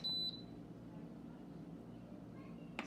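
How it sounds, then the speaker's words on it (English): An electric pressure cooker gives a single short, high electronic beep as its timer is set for a vegetable dish, followed by a quiet low hum and a faint click at the end. "And in 8 minutes it will ding, tell me it's ready."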